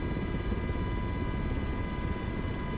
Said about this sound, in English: You'll see the helicopter pitch forward and hear the engine change as you start to climb and accelerate again.